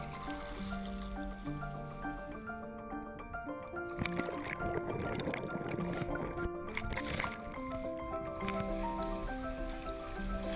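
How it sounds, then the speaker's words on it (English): Paddles dip and push through water as a small boat glides into Vergeo, soft irregular splashes and drips, faint and close, with light background murmur. "Here we are, paddling into Vergeo."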